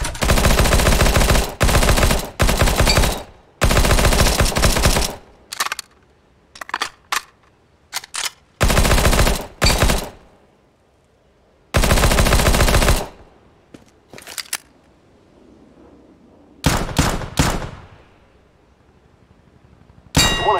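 Gunfire in a CS:GO training course: loud bursts of rapid automatic fire and single shots, separated by short silences and sharp metallic clangs, close and dominant with no talking.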